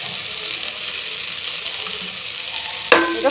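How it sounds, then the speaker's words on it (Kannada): Masala for paneer biryani frying in a pan over medium heat with yogurt added, a steady close sizzle throughout, then a louder scraping stir near the end. "ಎಣ್ಣೆ ಅಂಶ ಬಿಡೋವರೆಗೂ ಫ್ರೈ ಮಾಡೋಣ"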